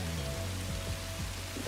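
Rain falls in the Satisfactory video game, a continuous patter of drops against a low mechanical hum from the game world, with no talk.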